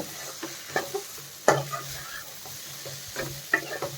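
A spoon stirs cumin powder and coriander powder through chapati noodles in a pan, giving a series of irregular scraping strokes and knocks against the metal over a faint sizzle.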